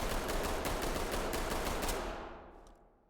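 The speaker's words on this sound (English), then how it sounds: "now I am just going to kind of just shoot the side here" Rapid automatic gunfire from a weapon in the tactical shooter game Ready or Not, a dense burst of closely spaced shots lasting about two seconds before trailing off into a fading echo.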